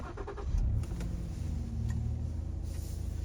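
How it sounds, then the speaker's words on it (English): A Ford Police Interceptor Utility starts up, the engine catching with a brief rising rev and then settling into a low, steady idle heard close by without talk. "I'm gonna go ahead and turn the car on"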